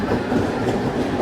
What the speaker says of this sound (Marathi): तर दादरवरनं ट्रेन आपली सुटलेली आहे